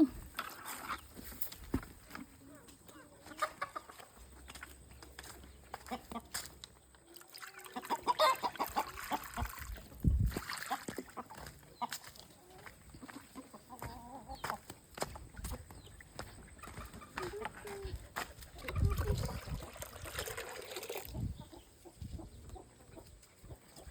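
Chickens clucking at feeding time in a rural yard, with soft scattered clucks and movement noises under intermittent talk, fairly faint.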